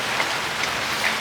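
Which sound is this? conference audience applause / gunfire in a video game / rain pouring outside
rain pouring outside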